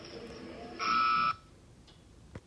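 A timer buzzer sounds once in a cutting-horse pen, marking the end of a 2.5-minute run: a loud, steady electronic tone of about half a second that cuts off abruptly over quiet background noise.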